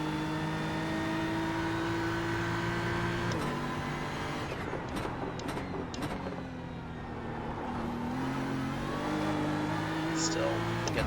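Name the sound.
GT3 race car engine accelerating in iRacing video game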